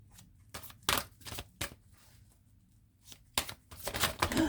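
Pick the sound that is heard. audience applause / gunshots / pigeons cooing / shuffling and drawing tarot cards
shuffling and drawing tarot cards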